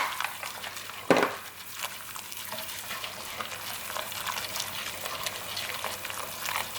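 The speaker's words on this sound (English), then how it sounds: "Always stir right away with the xanthan." Xanthan gum being stirred into a chicken pot pie sauce, heard as a faint, steady wet bubbling and stirring with a single sharp clank of utensil on pot near the start.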